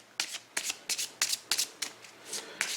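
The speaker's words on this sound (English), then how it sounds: "Give it a quick shuffle." A deck of spell cards for the Pathfinder Adventure Card Game is shuffled by hand in a series of crisp riffling bursts, roughly nine quick rustles heard close up and alone.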